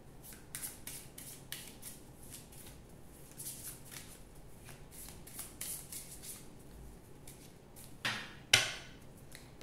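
A new Cigano fortune-telling card deck is shuffled in a run of quick, soft riffling clicks and flicks at close range, ending with a couple of louder snaps, with no talking.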